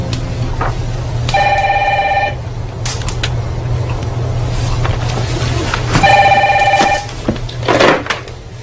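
Telephone ringing in two separate bursts, each a loud electronic trill lasting about a second, in a room with low background hum and occasional knocks and movement.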